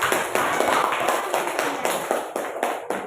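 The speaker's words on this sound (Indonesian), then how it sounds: "Oke, tepuk tangan buat kelompok." A classroom of students claps for a group of classmates in a series of loud, close, uneven bursts of hand claps with short gaps between them.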